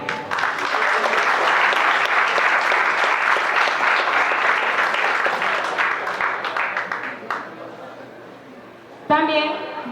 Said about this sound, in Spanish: invito a que recibamos con un fuerte aplauso a nuestro conferencista